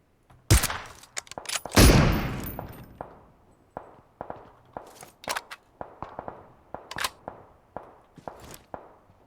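Sporadic gunshots in the video game PUBG Mobile on the Miramar map, a couple of loud close bursts followed by a string of sharper, fainter pops and clicks spread irregularly across the scene.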